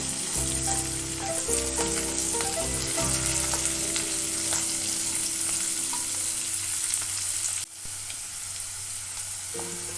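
Carrots and beans fry in a pan with a little salt, giving a loud, continuous close sizzle with stirring scrapes, briefly dipping near the end before resuming.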